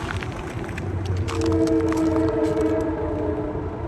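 A vehicle horn sounds outside in sustained, steady tonal blasts over a constant rumble of passing traffic, growing louder midway and holding to the end.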